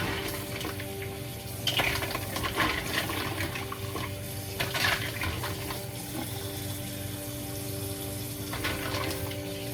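Mussels are rinsed under a running kitchen tap, a steady stream of water with intermittent splashing and clinking of shells.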